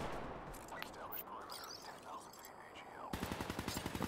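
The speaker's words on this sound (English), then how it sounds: "Hear that little pop gun? It's the handheld or one-handed shotgun thing." One-handed handheld shotgun firing in Call of Duty Black Ops 3, sharp game gunfire pops over scattered shooting and effects, then a rapid run of close shots near the end.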